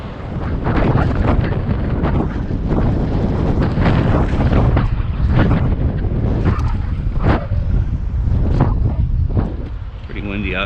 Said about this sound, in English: Pretty windy out today.